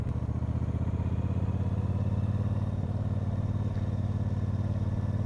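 A motorcycle cruises along an English country road, its engine droning steadily and close by with a rhythmic mid-pitched thrum and light clatter, no voices.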